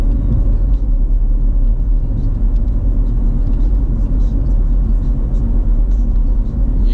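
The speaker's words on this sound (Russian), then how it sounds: "Сейчас мы едем с вами по дороге" Car driving along a hilly road in central Sochi, a loud, steady low rumble and road whir heard from inside the moving vehicle, continuous throughout with faint background talk.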